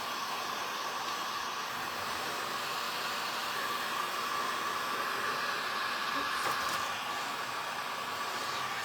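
A hair dryer blows steadily on fresh blood-red paint on a decoupage tray, a constant close whooshing hum with no breaks.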